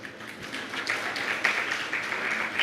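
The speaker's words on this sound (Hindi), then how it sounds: "भैया ताली मत बजाओ" An audience claps steadily through a Hindi religious sermon in a hall, a continuous patter of many hands at moderate loudness with little else audible.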